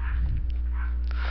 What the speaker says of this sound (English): I apologize for the dog barking in the back if any of you heard it.